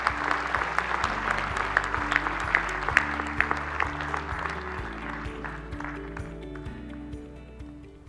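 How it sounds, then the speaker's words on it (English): An audience at an innovation event applauds the panelists with steady clapping throughout, with some background murmur, fading toward the end. "Yeah, round of applause."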